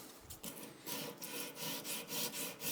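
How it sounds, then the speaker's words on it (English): A hand file is rolled backwards across a metal workpiece in steady rhythmic strokes, giving a harsh scraping rasp with about seven passes. It is close and alone, with no talking. "rolling the file backwards usually gives a nice result"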